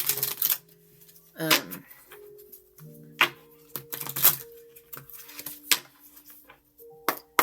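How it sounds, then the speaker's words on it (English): Rapid clicky riffling of tarot cards being shuffled in a few quick bursts, close by, with faint tonal sounds in the background. "I'm going to give it a quick shuffle"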